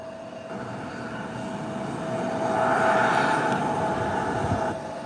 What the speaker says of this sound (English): that's the Bombardier CRJ Intercaribbean that just touched down coming out of Havana, Cuba